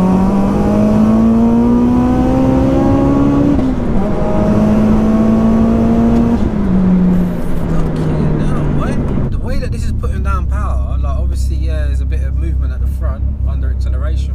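A 504 bhp Vauxhall Corsa VXR accelerating hard, its engine note rising through the gears in loud, close sweeps with brief drops at each shift, then a deeper roar and wind noise as it speeds on.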